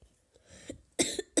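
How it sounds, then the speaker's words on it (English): A sick person coughing close to the mic, a few faint throat sounds and then three sharp, loud coughs in quick succession. "I'm really sorry about the coughing"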